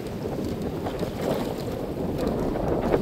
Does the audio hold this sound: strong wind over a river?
yes